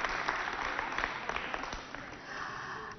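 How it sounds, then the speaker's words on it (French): A studio audience at a Chad television show applauds loudly, with dense, steady clapping from many hands that thins slightly toward the end, and scattered voices mixed in. "Allez, on applaudit très très fort pour notre présence"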